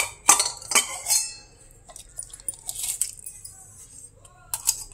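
Antique copper vessels nested together clink and ring against each other in a few sharp bright knocks, then lighter scraping and tapping nearby, with no one speaking.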